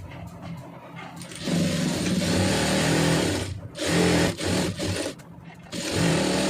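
An electric sewing machine stitches a plain blouse in bursts, its fast mechanical whirr running for a few seconds, stopping briefly, then starting again nearby.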